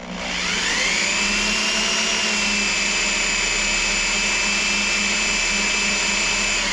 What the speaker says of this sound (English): Normally I wouldn't suggest running a drill like this straight at yourself either.